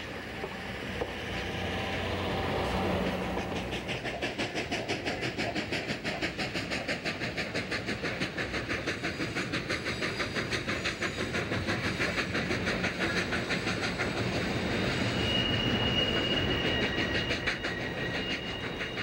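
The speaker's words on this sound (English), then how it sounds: "the train departs on the Norfolk Southern Main Line to Macon" A train rolls out along the Norfolk Southern main line toward Macon, a steady rumble with rapid rhythmic clickety-clack of wheels over rail joints, sustained and fairly close, with no talking.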